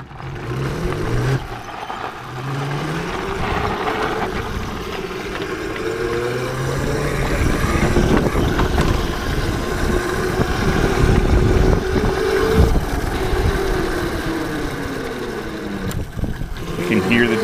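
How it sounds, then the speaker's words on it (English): E-bike hub motor on a custom conversion with a regenerative braking kit, winding down as it decelerates, a steady whine with falling tonal sweeps over road and wind noise, close and fairly loud throughout. "You can hear the deceleration."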